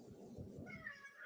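A house cat gives a short, fairly faint meow, heard alone against quiet room background.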